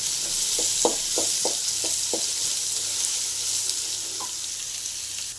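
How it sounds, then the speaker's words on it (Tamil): Onions fry in a pan with a constant close sizzle, with a quick run of tapping spoon strokes early on and then a steady hiss. "வெங்காயம் போட்டுடலாம் நல்லா ஃப்ரை பண்ணிடுவாங்க"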